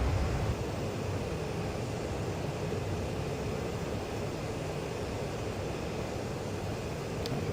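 In the DCS flight simulator, the jet engine of an AJS-37 Viggen drones as a steady, loud, broadband roar with the afterburner off, unbroken and with no voices.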